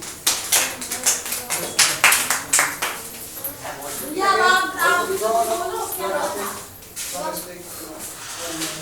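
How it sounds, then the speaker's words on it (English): Audience clapping in a maths class, scattered claps at first with voices chattering over and around them. "clapping for Pinky"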